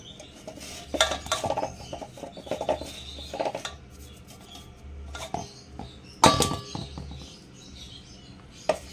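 Ground flattened rice is emptied out of a grinder jar, with close clinks, taps and scrapes of the jar and utensil against each other, irregular and fairly quiet, including one sharper knock partway through.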